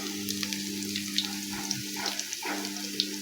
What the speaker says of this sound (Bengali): পাকোড়াগুলো ভেজে নিচ্ছি।